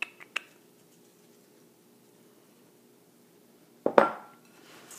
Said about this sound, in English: Mix those apples up.